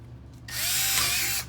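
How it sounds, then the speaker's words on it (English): A power drill bores through a wooden top board into a spoil board: a single steady, close, loud whirring burst lasting about a second, rising in pitch slightly, with no talking. "And drill that out."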